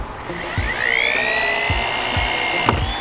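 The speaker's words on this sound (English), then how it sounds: "why are you using that drill?" An old power drill spins up with a rising, whining motor pitch, running close and loud for a few seconds amid light knocking sounds during baluster repair work.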